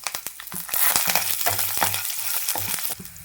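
Dry red chillies and green chilli slits fry in hot oil for coconut rice, giving a dense crackling sizzle broken by sharp stirring scrapes and clicks, close and continuous with no voices.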